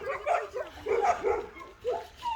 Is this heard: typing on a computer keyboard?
no